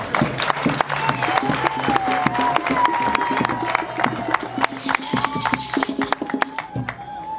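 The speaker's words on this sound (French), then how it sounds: "applaudissez un peu plus fort, ils sont là." An audience at a factory inauguration ceremony bursts into loud, sustained applause with scattered cheers and shouts, dense clapping filling the whole stretch, with a crowd murmur and a voice carrying over it.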